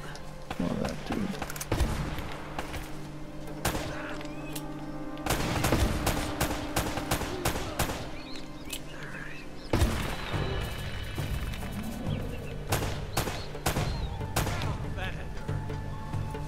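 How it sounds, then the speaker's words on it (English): Gunfire from the action game Uncharted: Drake's Fortune, with repeated sharp shots and short bursts cracking over a steady background, while a voice talks over parts of it. "Who is shooting me?"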